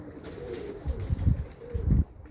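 Pigeons coo in low, throaty bursts, two fuller rounds near the end over a quiet background.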